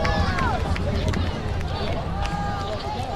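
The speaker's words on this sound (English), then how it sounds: "Lincoln crowd giving a roar as their team coming back on the field right now from the locker room" Lincoln football crowd in a stadium at a high school game against Franklin, 2023, roaring as their team returns to the field from the locker room: a steady, loud wash of cheering and babble with a commentator talking over it.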